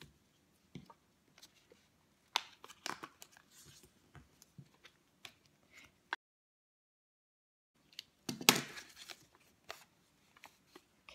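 Scissors trim fabric along a cardboard template with scattered small snips and rustles. A quiet pause follows, then a louder burst of cutting and handling near the end.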